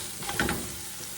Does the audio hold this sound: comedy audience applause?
no